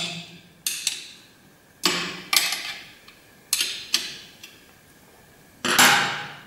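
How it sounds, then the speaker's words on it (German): A size 6 Allen key working loose the screws on a Stalmach World Cup SX3 skibob, heard as several sharp metallic clicks and knocks spaced unevenly, ending in a longer scraping turn, close and clear with no talking. "Dazu brauchen wir einen Imbusschlüssel Nummer 6. Alle Schrauben werden locker gemacht."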